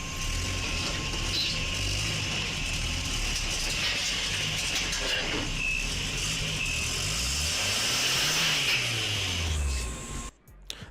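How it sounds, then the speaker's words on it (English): A lowered Mazda Miata with an aftermarket exhaust revs hard at full throttle, a loud sustained engine drone rising and falling in pitch before cutting off abruptly near the end. "let's get a rip in the chat for that exhaust"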